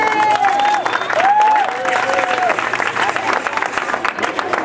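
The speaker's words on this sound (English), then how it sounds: "If you can all please give her a warm round of applause." An audience at a community family event bursts into sustained applause to welcome a speaker, a dense clatter of clapping with a few whoops and whistles over it, gradually thinning out.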